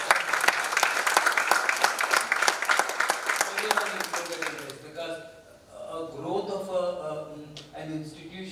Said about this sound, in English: You all deserve applause for organization.